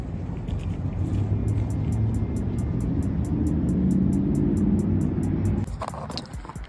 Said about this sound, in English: I'm gonna move the truck this way.